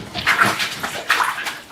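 A dog is bathed in a bathtub at home, with splashing water, sloshing and rubbing sounds, and faint whimpering mixed in close up.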